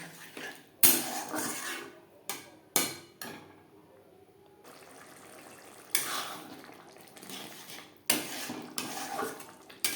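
A spice bowl rinsed with water and poured into a pan while cooking a Bengali doi pabda fish curry, heard as repeated clinks of metal bowl and utensils against the pan with splashing water, close and clear.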